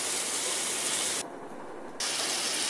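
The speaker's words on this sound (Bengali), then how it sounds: "ভালোভাবে কষে নিব এটাকে।" Chopped bottle gourd cooking with spices, salt and turmeric in a pan gives a broad, steady sizzling hiss that drops away for under a second before resuming, close up with no talking.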